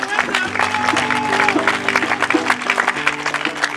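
Applause from a slam poetry audience at an International Slam Day stage event, crowd clapping under a steady musical backing with a sustained tonal bed, fairly loud and continuous throughout.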